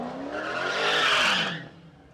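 Two drag cars, a Chevrolet Z28 in the left lane and a BMW in the right, pull up at a drag race: a loud rising engine roar with tire squeal builds, peaks, then fades away over about two seconds.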